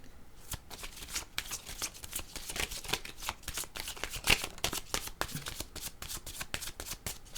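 Tarot cards being shuffled by hand, a quick run of crisp riffling clicks and flutters that continues steadily for several seconds, close and fairly soft, with no talking.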